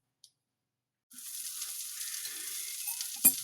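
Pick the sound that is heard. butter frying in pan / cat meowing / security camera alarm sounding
butter frying in pan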